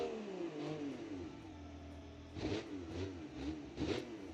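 Racing game car from a 1960s sports car challenge revving and accelerating, a steady mid-pitched engine drone with rising harmonic sweeps and a few louder surges near the end, no talking.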